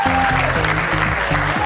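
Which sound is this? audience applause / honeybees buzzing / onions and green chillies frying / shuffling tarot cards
audience applause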